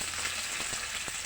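Smoked fish (tinapa) frying in oil in a large wok, a steady broadband sizzle with a few soft clicks and pops, close and continuous, no talking.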